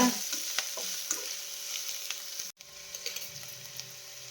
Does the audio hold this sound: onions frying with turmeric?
yes